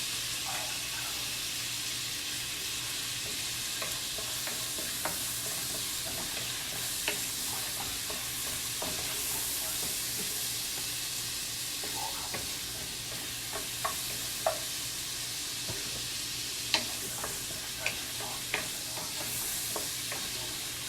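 Steady broadband sizzle of shrimp frying in a hot pan for pastalaya, with occasional sharp pops and clicks of utensils toward the end; no talking.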